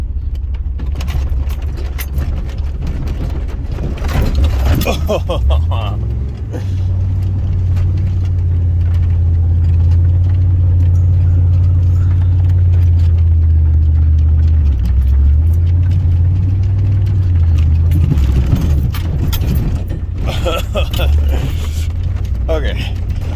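A car rolls over a bumpy trail with a low rumbling engine and a steady rattling jangle of a heavy key chain, loud and close, while a person talks over it.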